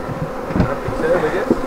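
Bees hum around an open hive lid in a low, steady drone, heard close with faint rustling and handling noise.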